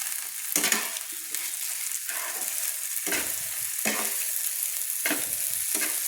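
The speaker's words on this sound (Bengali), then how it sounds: "হাফ চামচ হলুদ দিয়ে ভালো করে আমি কষিয়ে নিচ্ছি" Kashmiri chili powder, salt and turmeric are sautéed in a hot pan for aloo chingri, giving a continuous sizzle broken by about six sharp scraping stirs at an uneven pace.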